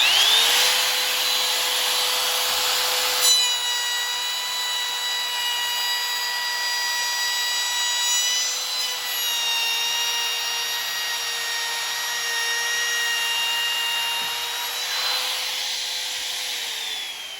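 A wood router fitted with a ball-bearing bit travels around the edge of a wooden board, keeping up a steady high whine for the whole stretch with slight shifts as it cuts.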